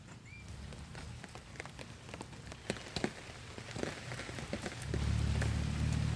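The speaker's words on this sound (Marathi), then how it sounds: "गेले 2-3 दिवस आमच्याकडे चांगला पाऊस पडायला लागला आहे" Rain falls steadily on a Konkan farm plot where turmeric is being planted, a dense close patter with scattered sharper drops and a low rumble that swells toward the end; no voices.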